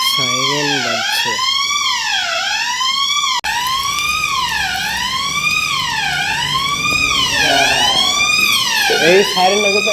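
A car-mounted siren wails loud and close, sweeping up and down in a rapid repeating cycle, with a short break where the pattern restarts.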